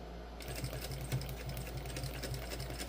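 A sewing machine stitches a fabric crossbody bag with a steady, rapid needle rhythm over a constant motor hum. It is faint and even throughout, with no talking.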